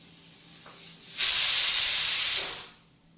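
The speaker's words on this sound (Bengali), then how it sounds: "কারণ যেহেতু আমি কুকারটা এখন খুলবো, আরেকটা সিটি দিয়ে নিচ্ছি" A pressure cooker on the stove, cooking semolina upma, lets off one loud, rushing hiss of steam lasting about a second and a half, then tapers off, with a faint rising whistle just before the burst.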